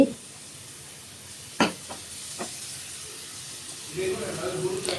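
Sugared rose pitha batter fries in a pan under a low hiss, punctuated by a few sharp stirring knocks, with the bubbling swelling louder toward the end.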